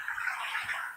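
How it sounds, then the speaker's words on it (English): A waterfall in Smyrna, Georgia gives a brief, faint, steady hiss of rushing water with no other sounds. "come out and see this waterfall right here"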